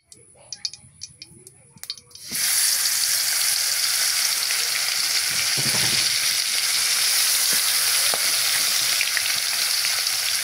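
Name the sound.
tilapia fish frying in oil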